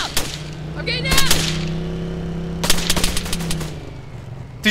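Gunfire in the military shooter Arma 3, with sharp broadband shots in two close clusters, one near the start and another around the middle, over a steady engine-like hum and background game noise.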